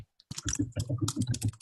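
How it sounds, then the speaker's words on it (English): Quick, irregular keystrokes on a computer keyboard picked up by an open microphone on a live group call, loud and close with no talking over it. "Okay, somebody is typing."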